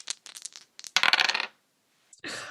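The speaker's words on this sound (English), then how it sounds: "Roll those dice, baby." Dice clatter and rattle across a surface during a tabletop role-playing game, a few quick bouncing clicks followed by a longer tumbling roll and a final brief rattle, close and clear.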